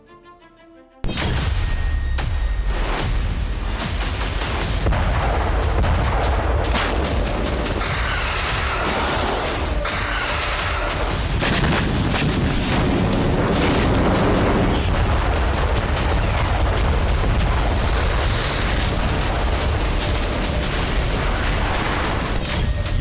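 Indian-made artillery guns fire in a long, relentless barrage, with heavy booms and rapid gunfire-like blasts overlapping almost without pause from about one second in, loud and dense throughout.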